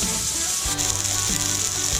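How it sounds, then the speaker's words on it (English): Steady, loud sizzling of steak and asparagus frying in a hot pan, continuous crackle with no voices. "You can hear that sizzle."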